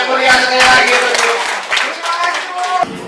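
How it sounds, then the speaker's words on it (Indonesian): Audience at a product testimonial event clapping, loud and near, a dense burst of handclaps lasting a few seconds with some voices mixed in. "Boleh Bapak Ibu sekalian tepuk tangan yang meriah sekali lagi Bapak Ibu"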